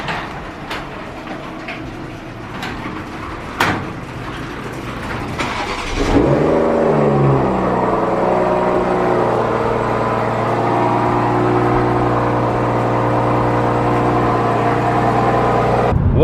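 A newly acquired car's engine starts and revs up into a loud, steady drone that continues through the rest of the clip, following a quieter opening stretch.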